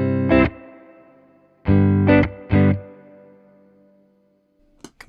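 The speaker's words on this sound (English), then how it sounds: "here's real spring reverb" Three loud guitar strums ring out through an amplifier, each trailing off in a splashy, metallic reverb tail from a real spring reverb tank, followed by a couple of faint clicks.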